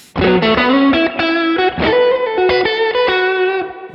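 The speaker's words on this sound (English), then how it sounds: "Tube screamer." Electric guitar through a Tube Screamer overdrive, with a smooth, mid-focused tone, plays a short phrase of sustained notes and quick licks, loud and up close.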